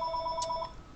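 A telephone rings briefly, a short burst of steady electronic tones heard fairly close.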